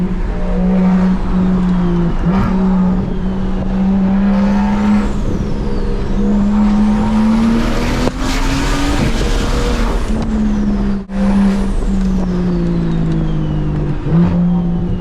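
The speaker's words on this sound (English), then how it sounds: "Boy spitting flames right there." Loud, close engine roar of a car at a Monterey Car Week show, revving hard and rising in pitch, with a sharp crackling burst of exhaust backfire and flame spitting near the middle and a brief drop before the engine picks up again.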